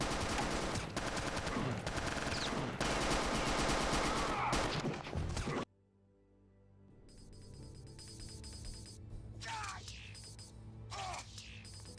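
Rapid video-game gunfire in dense bursts, loud and continuous for several seconds, then a brief drop to near silence before scattered shots and game effects resume more sparsely.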